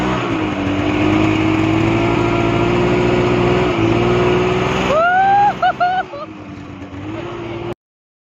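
A snow bike (snowmobile) engine runs steadily in Manali's Solang Valley, a loud continuous drone with a slight rise in pitch, then a brief wavering burst before it cuts off abruptly.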